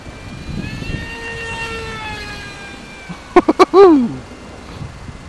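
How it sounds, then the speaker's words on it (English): A small RC Mini Viper jet with a rewound electric motor flies past at dusk, its high whine sweeping down in pitch, followed by a few sharp squeals near the end. "That rewound motor of mine certainly goes."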